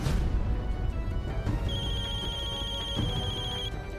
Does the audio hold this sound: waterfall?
no